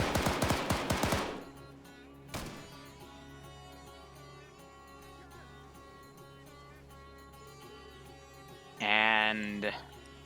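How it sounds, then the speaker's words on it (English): Gunfire from soldiers in the military game Arma 3: a rapid automatic burst at the start, a single sharp shot shortly after, and another short burst near the end, over a quiet humming background. "we hear those guys take shots"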